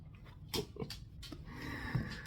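A dog makes short excited huffs and whimpery vocal bursts at close range, irregular and moderately loud over a noisy indoor background.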